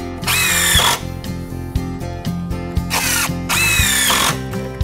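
A power drill drives screws into a deck cross brace: two loud, rising whirring bursts each end in a clunk, with short ratcheting buzzes between them, close and alone.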